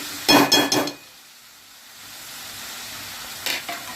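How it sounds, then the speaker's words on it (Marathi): Chandan batwa greens hit a hot garlic tempering in oil with a loud, brief burst of sizzling, which settles into a quiet low hiss before a shorter crackle returns near the end. "त्याला लसूणची फोडणी द्यायची आणि भाजी टाकून द्यायची।"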